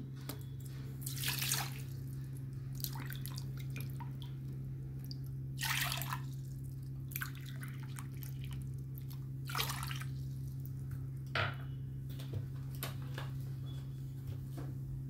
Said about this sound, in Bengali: আগে চায়ের জলটা আমি নিচ্ছি।